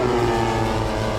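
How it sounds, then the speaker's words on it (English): Running engine of a large radio-controlled model warbird airplane at a model airplane event, a loud, steady, close mechanical roar with a tonal whine. "Literally a jet engine in there."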